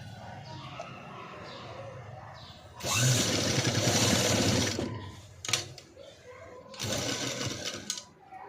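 A sewing machine stitching a sleeveless cut-work blouse runs in two loud bursts of rapid whirring, separated by a quieter stretch with faint background sounds.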